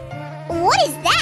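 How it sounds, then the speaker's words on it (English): A cartoon bee in a Babybus kids science game buzzes in two swooping, rising-and-falling bursts over a steady low hum, fairly quiet and close, with no talking. "When flying, the bee beats its wings rapidly and gives off a buzzing sound."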